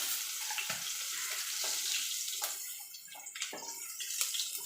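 Pieces of stingray fish fry in oil in a wok, giving a steady, close sizzling hiss with occasional crackles and spatters throughout, no voices.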